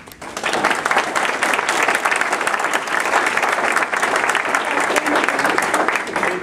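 An audience at a conference breaks into sustained applause, dense steady clapping filling the room for several seconds.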